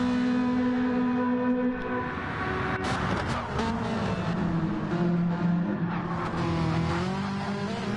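Several race cars circle a track in Gran Turismo 7, engines droning steadily with shifting pitch as they run close together, loud and continuous with no talk.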